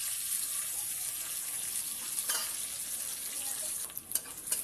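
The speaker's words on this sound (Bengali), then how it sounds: "একটু পেঁয়াজটা ভেজে নেবো হালকা করে" Onions fry lightly in hot oil for a crab and cauliflower curry, giving a steady, close hiss of sizzling with soft stirring scrapes near the end.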